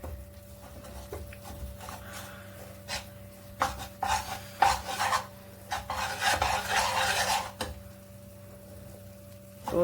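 Besan (gram flour) roasting over a low flame in a pan gives soft, scraping stir strokes with a faint sizzle, in irregular bursts over a steady low hum.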